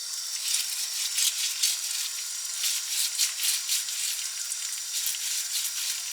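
Potatoes are rubbed and rinsed under running tap water, a steady hiss of flowing water with a soft, rhythmic swish of hands scrubbing through it, close up.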